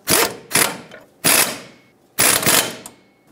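A ratchet wrench tightens the nut on the lower shock absorber bolt of a 2007-2014 Chevrolet Silverado 2500 HD, heard as four close, sharp bursts of clicking separated by short pauses, loud and with no talking.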